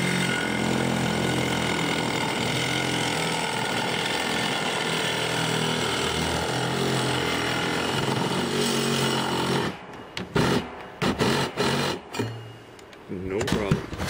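A single-speed Ryobi power tool, about five years old, runs in a steady loud drone while cutting during a heat-exchanger build for a wood-burning fireplace, then breaks into short choppy bursts and pauses toward the end.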